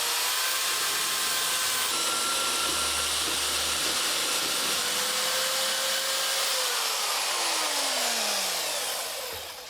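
A Sawzall reciprocating saw cuts race car tubing with a loud, continuous harsh buzzing hiss, its pitch sliding downward as the blade bogs in the metal before stopping at the end.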